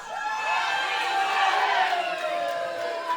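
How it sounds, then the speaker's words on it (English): A wrestling show crowd cheers and chants in a continuous loud roar of many voices filling the hall, with no pauses throughout. "Let's go Fox, I think they're chanting"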